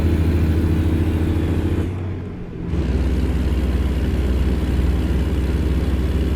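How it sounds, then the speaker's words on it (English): Truck engine in American Truck Simulator, a steady loud low droning hum that dips briefly as if shifting gears, then resumes its constant rumble, with no voices. "I went to double check to figure out why the engine sound is different on this profile than it is on the other one."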